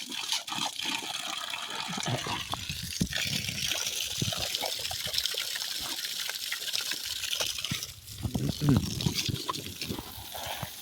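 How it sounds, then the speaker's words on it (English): Well water runs and splashes from a garden hose with a continuous gushing, trickling sound, close by, while people talk over it. "it's okay to drink from the hose when it comes from a well"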